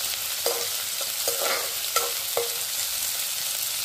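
Chopped onion and capsicum fry in hot oil in a pan, giving a steady close sizzle broken by several sharp stirring scrapes at a regular pace.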